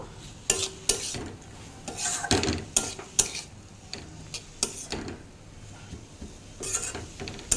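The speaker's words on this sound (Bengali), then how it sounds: "আমি একটু হলুদ দিয়ে দিচ্ছি কালারের জন্য। হলুদ দিয়ে একটু নেড়ে নেব।" A spoon scrapes and clacks against a pan while turmeric is stirred into papaya chutney, giving a steady series of irregular metallic taps and soft scraping strokes, fairly quiet and close with no talking.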